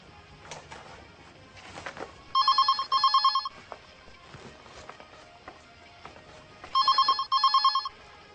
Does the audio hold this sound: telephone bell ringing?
yes